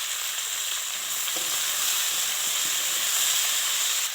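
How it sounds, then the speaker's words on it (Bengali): Potatoes and vegetables, potato and eggplant for a pangas and tengra fish curry, sizzle and hiss steadily in a hot pan, with occasional soft scraping of a stirring spoon close by. "এবার আলু আর সবজিটাকে দিয়ে দিতে হবে নাড়াচাড়া করতে হবে"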